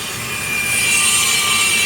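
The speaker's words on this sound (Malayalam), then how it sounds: "പീസ് പീസാക്കിയിട്ട് അവിടെ കട്ട് ചെയ്യുന്ന ജോലി നടന്നുകൊണ്ടിട്ടുണ്ട്" Concrete wall being cut into pieces at a road construction site on a damaged NH66 service road, a steady, continuous grinding saw noise that swells slightly and holds loud throughout, with no talking.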